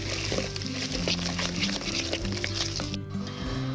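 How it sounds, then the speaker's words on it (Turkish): Cheese pancake batter of crushed cheese, flour, salt, pepper and baking powder being stirred in a bowl, with a steady scraping, swishing motion running throughout over a faint tonal background. "Güzelce karıştırıyorum."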